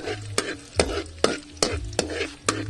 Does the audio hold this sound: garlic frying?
yes